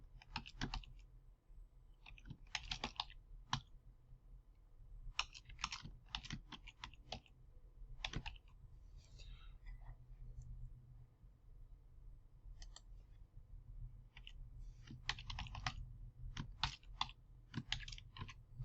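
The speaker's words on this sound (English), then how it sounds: "Typing a few things" Soft, irregular clatter of keys being typed on a computer keyboard in short bursts and pauses, fairly quiet over a low background hum.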